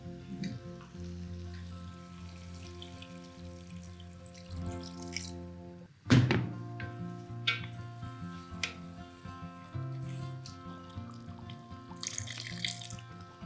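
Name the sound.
water being added to chicken korma nut and onion paste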